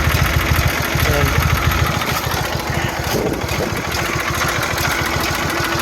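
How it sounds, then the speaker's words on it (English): A Kohler Magnum 20 horsepower engine runs on a Simplicity Sunstar riding mower, giving a steady, loud, close mechanical drone with a rapid low pulsing throughout and no talk. "Under the hood, we've got a Kohler 20 horsepower engine."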